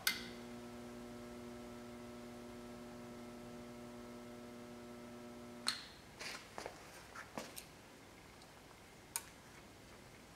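A spot welder clamped on Jeep XJ sheet metal gives off a steady electrical hum for several seconds, then falls quiet, followed by a few scattered faint ticks and clicks.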